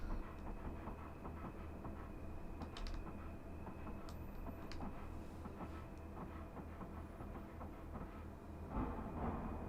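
Rhythmic clickety-clack of track joints under a Class 323 electric multiple unit in Train Simulator 2021 on the Cross City Line, repeating steadily over a constant rolling rumble and motor hum, with no talking.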